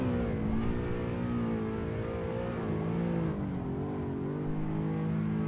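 A race car engine screams at full throttle on the Nordschleife in the Assetto Corsa racing game, a loud, steady high-revving drone with the pitch dipping and climbing through gear changes and no voices over it.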